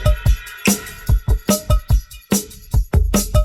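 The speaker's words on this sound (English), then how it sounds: "adding a little extra percussion, like a tambourine loop, just to give it a little more energy." A drum groove with kick and snare hits drives along while a jangling tambourine loop adds bright shimmer on top, all fairly loud and without voices.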